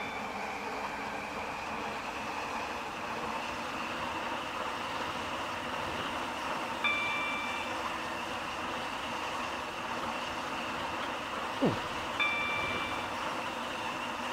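A train runs steadily along the line through Rosedale Gulch in the Roblox game Stepford County Railway, its low continuous rumble holding level throughout, with a few faint tones and one brief swoop partway through.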